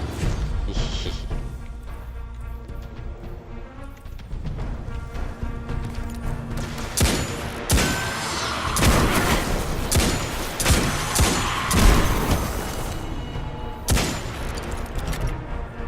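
Rapid gunfire from the Destiny 2 video game, dense bursts and explosive crashes over a continuous game soundtrack, loud and sustained throughout.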